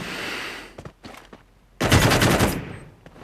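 Gunfire exchange in a battle-royale video game, with an M4 rifle involved: a faint burst early on, scattered sharp shots, then a loud sustained volley of rapid automatic fire before it trails off.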